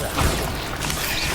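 A Bombarda blasting spell detonates in Hogwarts Legacy, a dense, loud crash-like burst of noise that fills the short moment with rumbling, smashing texture.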